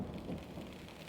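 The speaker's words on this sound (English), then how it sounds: "And then the rain started falling down." Thunder rumbles through steady, heavy rain during a storm, a continuous low roar with rain hiss throughout, fairly quiet and with no voices.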